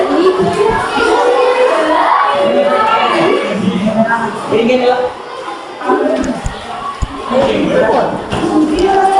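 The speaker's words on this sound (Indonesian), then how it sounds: "Tepuk tangan untuk kelompok 3 ya" Classroom of students applauding a group presentation, with a noisy mix of clapping, children shouting and chatter that continues throughout at close range.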